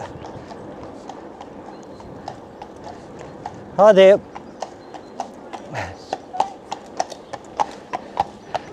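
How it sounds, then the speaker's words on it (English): A horse walks along a trail, its hooves clip-clopping in a steady series of distinct thuds close by, while a person gives a short spoken greeting midway through. "Horse up ahead."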